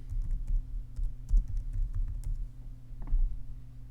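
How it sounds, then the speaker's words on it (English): Keystrokes on a computer keyboard, typing a search for SketchUp Free, come as faint, scattered clicks over a steady low hum, with no one speaking. "If you type in SketchUp free"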